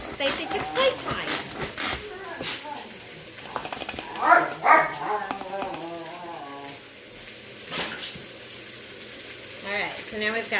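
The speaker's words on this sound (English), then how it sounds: "Don't mind my dogs. They think it's playtime." Dogs bark and yip playfully in bursts throughout, close by, alongside a sizzling pan of onions and red pepper and a person talking.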